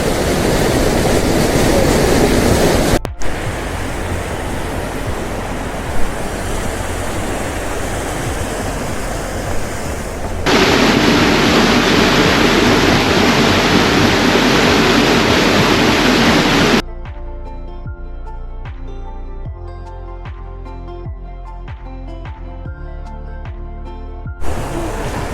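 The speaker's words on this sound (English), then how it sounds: "It's not a tall waterfall, but it's still very impressive." College Burn waterfall in Northumberland, a constant loud rushing roar of water forced through a narrow channel, near and steady throughout, with the texture shifting as the listening position changes and no voices.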